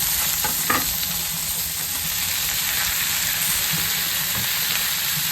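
Tomatoes frying lightly in a pan, a steady close sizzle with occasional stirring clinks, continuous and fairly loud with no voices.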